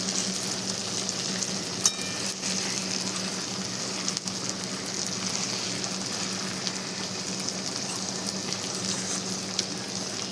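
Homemade Ayurvedic hair oil with hibiscus leaves cooking in a pan, giving a steady, close sizzle and bubbling with light stirring through the whole stretch and no talking.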